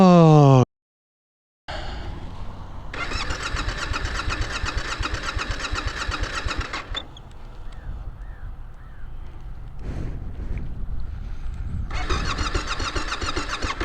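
A motorbike engine cranks and catches after a brief silence, then runs loudly at a fast, throbbing idle, cuts out for a few seconds, and roars back to life near the end.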